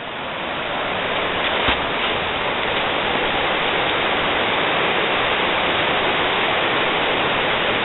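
The Guest River rushes past a trail in a dense, unbroken roar of flowing water that stays loud and steady throughout, with no voices.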